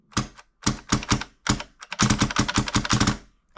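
A P90 Hydra HPA airsoft gun running on about 100 PSI fires close by in sharp, dry pneumatic cracks, first as scattered single shots and then as a quick rattling burst.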